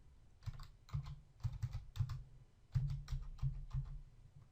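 Password being typed on a computer keyboard: quick bursts of clicky keystrokes with short pauses between, close and clear, with no talking.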